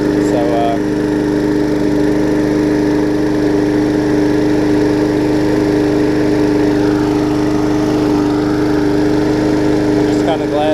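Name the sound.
small engine running on a swapped-engine rally lawn mower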